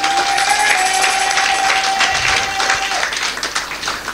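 A church congregation applauding the Lord, dense sustained clapping from a crowd with voices and cheering mixed in throughout.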